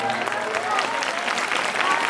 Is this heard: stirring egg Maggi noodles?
no